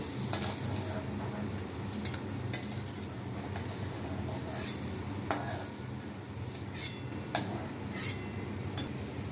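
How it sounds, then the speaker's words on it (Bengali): Fried eggplant being lifted out of a pan with a metal utensil, with a series of light clinks and scrapes at irregular intervals over a faint steady sizzle, close and without talk. "আমার বেগুনটা ভাজা হয়ে গেল, আমি এটা তুলে দিচ্ছি"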